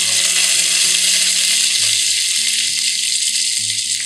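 Curry leaves dropped into hot oil for tomato pulao crackle in a loud, steady sizzle that holds for a few seconds with no one speaking.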